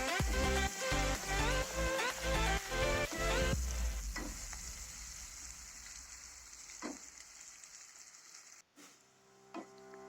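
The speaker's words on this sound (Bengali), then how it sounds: "একটা মিডিয়াম সাইজের পেঁয়াজ কুচি তেলে দিয়ে দিলাম। এটি হালকা করে ভেজে নেব" Sizzling of a chopped medium onion frying lightly in oil under loud, rhythmic background music at first; the music fades, leaving a quieter steady fry with a few clinks.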